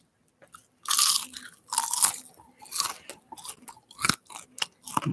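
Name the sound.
crunching sugar-coated popcorn while chewing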